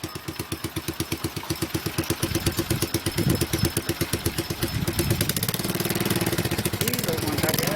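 An old, beat-up motorcycle engine is kicked over and fires into a loud, close, chugging rhythm that settles into a rough, steady idle, with people talking over it.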